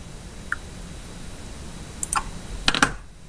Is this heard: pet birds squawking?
no